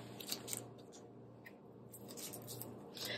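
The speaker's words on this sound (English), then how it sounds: "Let me just cut this open." A package being cut open to unpack a diamond painting tray tower kit, giving short snipping and crinkling sounds close by over a steady low hum, with no talking.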